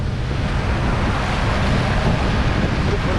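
Sea waves wash steadily around a fishing boat on a calm day, a continuous broadband rush with wind noise on the microphone and no distinct breaking crashes, with no voices.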